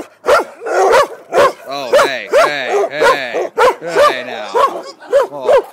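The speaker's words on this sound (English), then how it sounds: "you got the nice little bark." A dog gives a rapid series of short, close, yappy barks and yips, about a dozen in quick rhythm, while a person speaks briefly over them.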